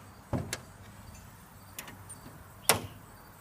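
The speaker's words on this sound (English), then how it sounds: "Close the door" A meat smoker's door is handled with a couple of soft clunks, then a sharper latch or shut thud near the end, faint against a quiet background.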